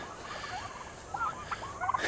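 Turkeys kept as poultry on a homestead gobble and call in a few short, rising bursts toward the end, fairly close and moderately loud over a steady outdoor background.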